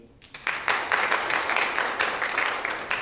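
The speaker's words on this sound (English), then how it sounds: "claps for Sadiq, everybody" A student government general session audience breaks into brief applause for a member, scattered hands clapping in a small room for about three seconds, moderately loud and uneven.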